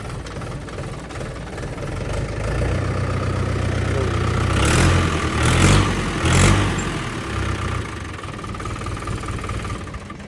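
A Mahindra 575 tractor diesel engine runs close by, a low steady idle with a rough rhythmic chug that swells into a couple of louder revving surges midway before settling back.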